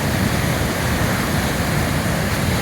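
Saint Louis river rushing and raging past rocks in Jay Cooke State Park during a snowstorm, a loud, dense, unbroken roar of churning water heard close up with no voices.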